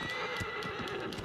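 A horse in the video game Shadow of the Colossus whinnies while its hooves clop underneath, all within a brief, fairly quiet moment with no voices.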